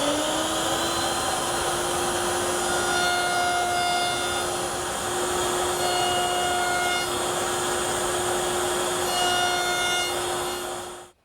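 Router with a round-over bit shaping the ends of a wooden bar guided by a miter gauge, a loud steady high-pitched motor whine with a grinding cut that runs continuously, then spins down at the end.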